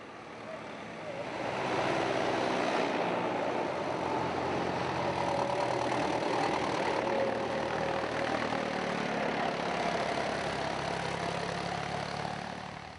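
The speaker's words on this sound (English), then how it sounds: "Tractor's going to work quite hard up through these hairpins, so let's have a listen and leave them to it." Vintage tractors labour up steep hairpin bends on a tractor run in the South Lakes, their engines a steady, continuous drone heard from some distance with no speech.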